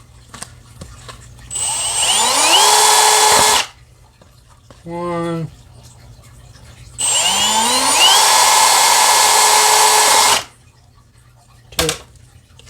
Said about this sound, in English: So this is the bottle I'm going to be drilling 2 holes in.